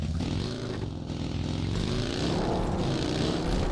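A vehicle drives past in a battle royale video game, its engine droning and rising in pitch, heard steadily over game ambience for several seconds with no talk.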